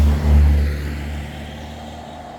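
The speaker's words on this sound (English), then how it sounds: "this is the first vehicle I've seen coming down here since arriving." A vehicle passing along a forest track near a parked motorhome, a low rumbling swell that peaks quickly and fades as it moves away, moderately close with no talk.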